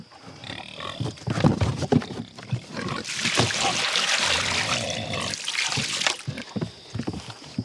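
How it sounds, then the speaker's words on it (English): Pigs on a farm eating wet feed mixed with whey: wet slurping, smacking and snuffling at close range, with a steady splashy rush in the middle of the clip. "Pigs don't mind the wet feed at all."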